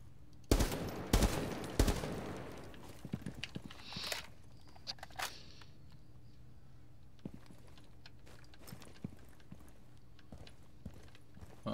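Several sharp gunshots from a shooter game set in Rainbow Six Siege burst out loudly in the first two seconds, followed by sparse faint clicks and thuds over a quiet background.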